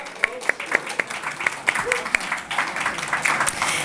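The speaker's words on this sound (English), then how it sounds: "let's give him a real applause." An audience at a Covert Action Magazine celebration applauds executive editor Chris Agee, opening with scattered separate claps that grow into dense, steady clapping, with a voice faintly audible underneath.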